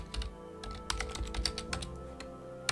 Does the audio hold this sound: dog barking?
no